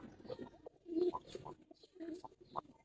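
A khaki pigeon, part of a pair for sale among high-flyer pigeons, gives soft, faint, low coos in short bursts, some several times over a quiet background.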